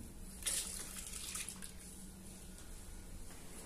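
Tap water runs steadily over a wig as it is rinsed under the faucet, a soft continuous splashing with faint shifting as the hair is moved in the stream.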